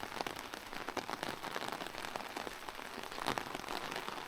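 Rain patters onto surfaces in a very old village of aged houses beside a small stream, a soft, steady crackle of scattered drops with no voices.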